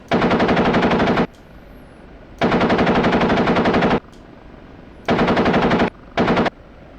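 Helicopter gun on an OH-58D Kiowa Warrior firing in the DCS flight simulator: four loud, rapid automatic bursts of differing lengths, separated by short silences.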